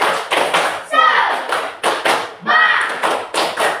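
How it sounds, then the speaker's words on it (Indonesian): A school class performs a rhythmic spirit clap (tepuk semangat) on a teacher's cue, with groups of sharp claps in a patterned beat alternating with chanted voices, loud and close. "tepuk semangat"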